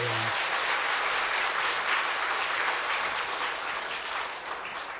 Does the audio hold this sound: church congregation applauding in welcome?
yes